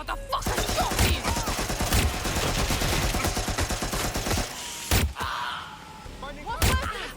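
Heavy gunfire in the video game Watch Dogs: Legion, a sustained rapid fusillade of close, loud shots for several seconds, then a pause broken by a few isolated heavy blasts, with occasional voices mixed in.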